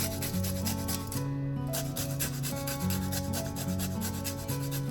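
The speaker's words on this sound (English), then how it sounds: "Moving on to the zester for the lime. We're going to get some lime zest. Just scrape it on the top." Lime rind being scraped on a zester for a Thai coconut curry, a steady rhythmic rasping of quick repeated strokes, close and continuous, set against a constant tonal background hum.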